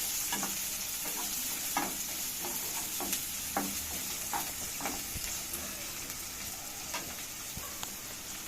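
Onions sizzle steadily in a hot pan while a spatula scrapes and stirs them repeatedly in an uneven rhythm, close and clear.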